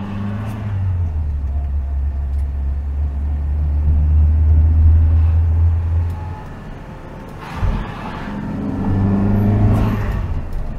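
A 1965 Singer Vogue Series III pulls away on the road, its engine rumbling up through a low drone that eases off, then rises again as the car drives on. Close in-car sound with no talk.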